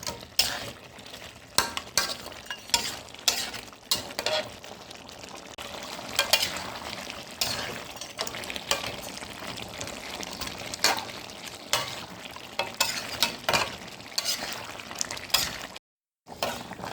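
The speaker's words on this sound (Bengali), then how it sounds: "এই যে আলু, মাংসের মধ্যে আলু দিয়ে কষাচ্ছি।" Potatoes frying with chicken meat in a pan, a low sizzle under repeated spatula scrapes and knocks against the metal, with a brief drop to silence near the end.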